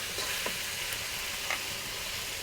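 Beef and ash gourd frying together in a pan hiss in a continuous, even sizzle, with a couple of faint stirring scrapes and no voices.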